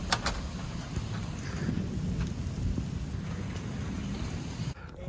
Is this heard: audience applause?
no